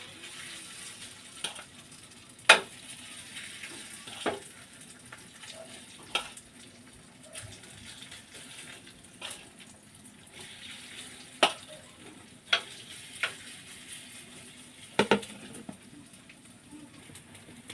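Meatloaf frying in cooking oil: a soft, low bubbling sizzle punctuated by scattered sharp pops and spits at irregular intervals.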